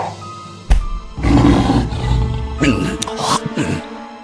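A tiger's roar as a sound effect in a Korean folk tale, a loud, growling roar of several drawn-out bursts after a sharp hit, close and dramatic.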